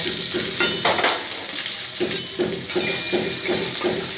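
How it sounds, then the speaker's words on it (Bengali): Chopped onion, garlic and green chillies frying in mustard oil, a steady sizzle with repeated rhythmic scrapes of a utensil stirring against the pan. "আমার পেঁয়াজ রসুন কাঁচা লঙ্কাগুলো ভাজা হয়ে গেছে"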